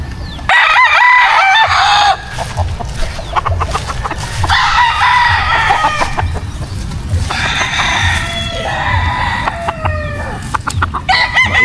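White Kelso roosters on a small farm crow loudly and repeatedly, long drawn calls overlapping with steady clucking, close and dominant throughout.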